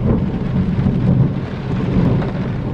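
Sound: thunderstorm with heavy thunder and rain

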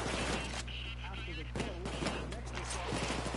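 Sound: gunshots in a video game

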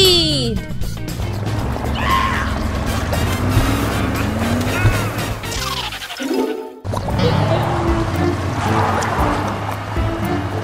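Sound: child's ride-on car driving through a huge puddle

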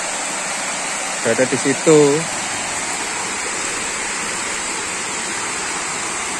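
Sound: waterfall Sendang Tlimo in Kabuh forest, Jombang

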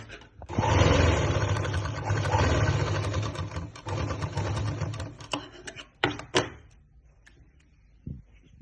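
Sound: sewing machine stitching a belt onto a lehenga

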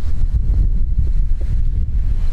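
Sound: strong wind gusts

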